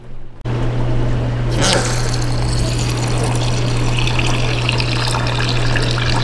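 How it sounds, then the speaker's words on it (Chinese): American long grain rice is washed under running water: after a short quiet start, a strong steady gush of water pours into a bowl near the microphone, with a low pump-like hum and sloshing as the rice is stirred. "现在呢，我们把米洗一下，"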